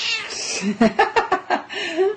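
A cat meows and yowls in a run of several loud, close calls of rising and falling pitch, alone without talk.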